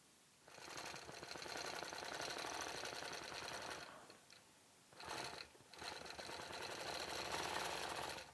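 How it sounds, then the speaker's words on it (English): A sewing machine stitches appliqué on a striped skirt in rapid, rhythmic mechanical bursts. It runs for several seconds, pauses briefly twice, then resumes, fairly close and with no talk. "On the skirt, I am just stitching in between the stripe and the plain"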